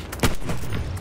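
A single sharp gunshot rings out in Battlefield 1, close and loud, and then fades into a rumbling tail of battle noise.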